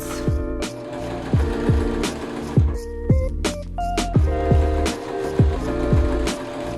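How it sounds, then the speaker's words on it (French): Close by, a sewing machine runs a short straight seam on a lace scrunchie, its needle thumping in quick bursts that stop and start with brief pauses. "On ferme le trou avec ses doigts et on fait une petite couture toute droite."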